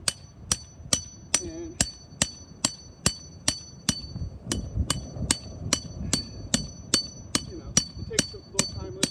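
Metal hammer striking a Stake Boss Tarp Fang stake into soft dirt, about twenty sharp ringing blows in a steady even rhythm, close and clear, with brief speech at the start and someone talking quietly under the later strikes.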